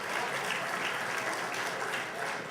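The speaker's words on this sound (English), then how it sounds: "Let's get a round of applause for that, by our next governor." Dense, continuous applause from a large crowd at a state party convention, a steady wash of clapping with no pauses.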